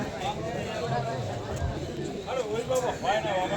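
Pigeons at the Galiff Street pigeon market in Kolkata coo in repeated soft, throaty phrases, several birds near and around, mixed with the bustle of a crowded market and people talking.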